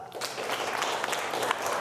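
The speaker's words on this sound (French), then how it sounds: "Applaudissez-la." Brief, even applause from a Catholic congregation during a Sunday Mass homily, a close wash of many hands clapping at once with no pauses.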